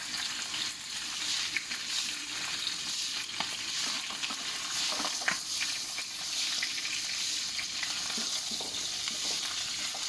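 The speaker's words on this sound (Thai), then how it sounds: "หมูที่มันโดนฉ่ากับกระทะ มันก็จะออกเป็นเหลืองๆหน่อย" Pork pieces fry and sizzle in a hot pan, a steady crackling hiss with occasional stirring scrapes and spatters, close and continuous without talk.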